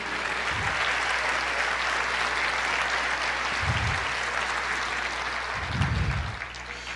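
A church congregation applauds continuously with dense, even clapping that stays loud throughout, with a few low thumps underneath.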